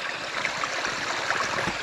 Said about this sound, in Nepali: यो पानी चाहिँ यसरी बग्दो रहेछ है।